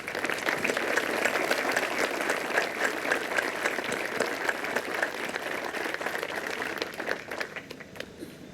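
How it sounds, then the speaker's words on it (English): Steady applause from a crowd at a veterans memorial park ceremony honoring Gold Star families fills the space for several seconds, dense and even, thinning slightly toward the end. "join me in giving them a round of applause and thanks?"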